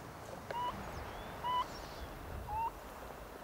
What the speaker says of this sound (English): it plays Taiko calls, and with the idea that it's going to attract any Taiko that might be flying over